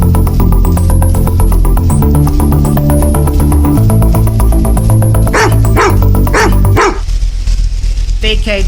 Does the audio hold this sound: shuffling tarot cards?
no